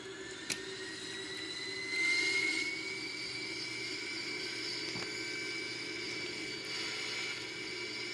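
Airbus A340 jet engines under manual thrust in a flight simulator game make a faint, steady roar with a thin high whine that swells briefly, then settles, with no voices.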